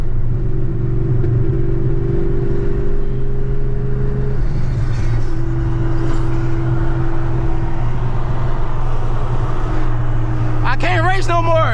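A Chevrolet Camaro ZL1 engine drones steadily and loudly from inside the cabin while driving, a constant low hum with a sustained tone that shifts partway through, misfiring, and someone speaks over it near the end.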